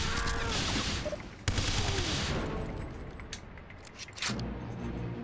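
Rapid AK rifle bursts from the video game James Bond 007 Everything or Nothing, dense continuous automatic fire with sharp cracks and a loud roaring backdrop, close and sustained throughout.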